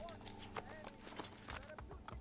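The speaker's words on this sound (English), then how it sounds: "You is the best horse ever, Shadow" Rapid rhythmic hoofbeats of a horse galloping in the video game Assassin's Creed Brotherhood, quick clip-clop thuds mixed with game sounds, fairly faint, and a person talks over it.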